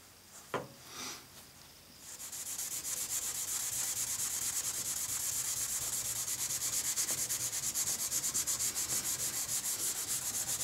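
A cloth rubs steadily back and forth along a sword blade while it is cleaned, a continuous close scrubbing rasp with a faint rhythmic pulse that starts after a couple of soft handling knocks.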